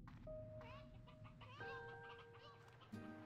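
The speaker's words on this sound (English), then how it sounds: "I hear chickens." Chickens clucking in the video game Slime Rancher 2, soft and in the background behind steady game music with sustained tones.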